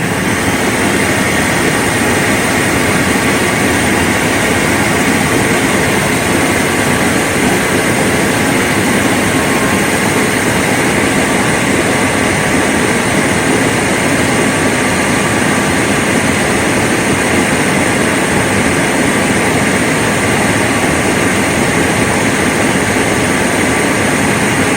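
A vacuum cleaner running steadily through an airflow and suction test, producing a loud, constant broadband roar with no letup or talk.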